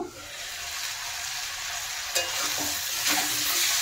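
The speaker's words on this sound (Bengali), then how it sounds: "নুন দেওয়ার পরে আরেকটু নেড়ে দেবো।" Potatoes and tomatoes fry in a pan with a steady close sizzle, interrupted by a few sharp scraping clinks of stirring, with no talking.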